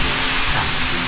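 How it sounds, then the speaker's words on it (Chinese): Slices of home-cured salted pork fry in a pan over low heat, giving a dense, continuous sizzle and hiss, loud and close, heard alone in a brief burst. "好，我们就这样小火让它慢慢煎。"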